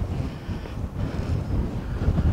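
Wind buffets the microphone outdoors on a hilltop lookout near a castle on the Schlossberg, giving a steady low rumble with gusty swells throughout and no voices.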